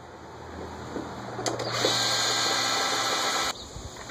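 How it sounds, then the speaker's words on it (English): A power drill bores out six rivet-style fasteners on a Bushwacker flat fender flare for a Jeep JKU, a steady high whine running about two seconds close by, with brief scraping starts before it and a sudden cutoff. "go ahead and drill out these 6 rivet style points on the flare"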